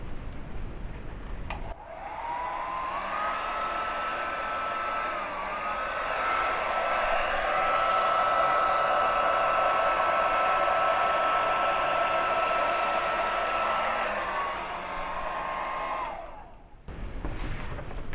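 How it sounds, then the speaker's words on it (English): A hairdryer switches on and blows steadily for about fifteen seconds across wet acrylic paint in a Dutch pour, a loud close whirring drone with slight pitch shifts, then clicks off. "let me use the hairdryer."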